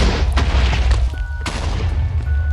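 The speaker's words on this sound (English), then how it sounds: "this isn't actually going to be that big of an explosion because I only have 9 TNT" A Minecraft explosion from nine blocks of TNT detonating, heard as loud, dense booming blasts that fill the whole clip with a rumbling low end and sharp bursts, with no talking.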